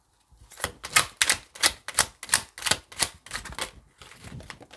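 A deck of cards being shuffled during a card reading: a quick run of about ten crisp, papery riffling bursts in steady rhythm, close and clear, then a softer trailing flutter, with no talking.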